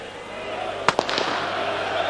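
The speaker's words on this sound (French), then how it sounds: "Et des pétards et toujours autant d'encouragement." Firecrackers at a 1991-92 European Cup football match crowd, two or three sharp cracks in quick succession rising over a constant stadium roar, with a commentator talking over it.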